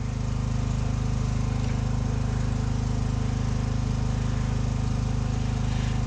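A small, cheap Harbor Freight grinder running steadily, a loud, close, continuous motor drone with a dense buzzing hum and no pauses.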